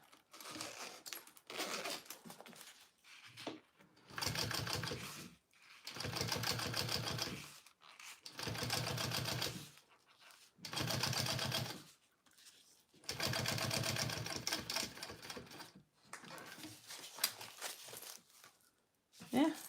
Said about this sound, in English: My bobbin is sounding weird.